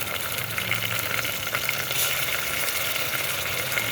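Cumin seeds and ginger garlic paste sautéing in hot oil, a steady close sizzle and crackle with faint stirring, no talking.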